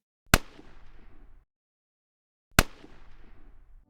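Two sharp gunshot discharges about two seconds apart, each a loud crack followed by a short decaying tail, with silence in between.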